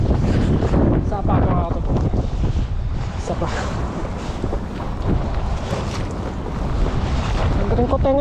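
Strong wind roars steadily across the open sea around a small fishing boat, buffeting the microphone with loud constant rushing while waves wash beneath and voices shout faintly in the background.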